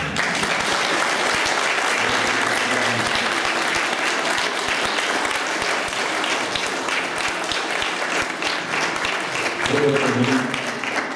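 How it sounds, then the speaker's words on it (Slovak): An audience applauds performers at a commemorative plaque event in Siladice, with dense, sustained clapping from a crowd that stays loud throughout and swells slightly near the end, as voices speak over it. "Ešte raz im zatleskám."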